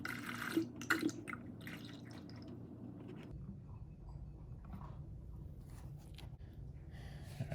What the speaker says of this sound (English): I'm going to pour the whole bottle into the bleeder here.